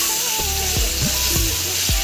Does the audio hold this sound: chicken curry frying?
yes